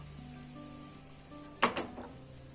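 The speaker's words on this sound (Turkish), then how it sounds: "Krep harcından bir buçuk kepçe kadar koyuyorum" Crepe batter hits a hot pan with a sudden sizzle after a quiet, humming stretch, then fades into a soft crackle as it spreads, heard close and alone.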